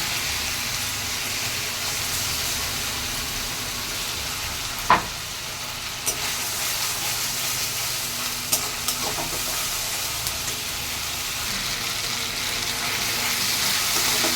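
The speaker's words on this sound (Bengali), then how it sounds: "টমেটোটা আমার ভাজা ভাজা হয়ে গেছে, এইবার আমি সর্ষে আর পোস্ত বাটাটা দেব" Mustard and poppy seed paste with tomato frying in a pan for a pomfret curry: a steady, loud sizzle throughout, with a few sharp clicks of stirring and no talk.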